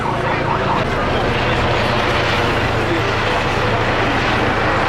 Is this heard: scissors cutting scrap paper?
no